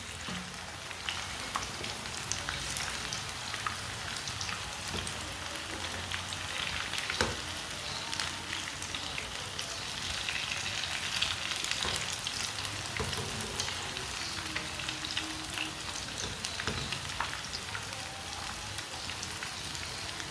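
Crispy aloo palak pakoras fry in a pan of oil, giving a dense, continuous close-up sizzle like steady rain, with scattered sharper crackles and pops over twenty seconds and no talking.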